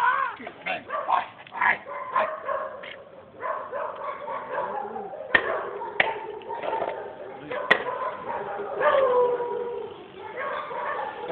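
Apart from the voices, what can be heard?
dog barking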